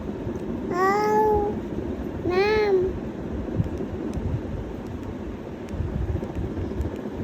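A cat meows twice, clear and drawn-out, with a pause between calls, over steady wind-like background noise.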